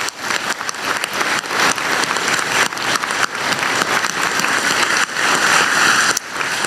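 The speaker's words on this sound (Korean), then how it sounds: "우리 두 분께 박수 한번 드리고 싶습니다" Audience applause at a public national report event for a southwestern advanced industries region, as a crowd gives two officials a hand: loud, dense clapping that rolls on unbroken for nearly seven seconds, close and without speech.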